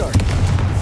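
A short, punchy Confringo blast from Hogwarts Legacy, a loud booming fiery burst with a couple of quick crackling pops, all within under a second.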